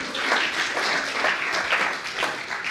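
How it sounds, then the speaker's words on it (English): An audience at an education summit's opening plenary gives a brief, dense round of applause, steady and fairly loud for a few seconds. "Another quick round of applause for yourselves."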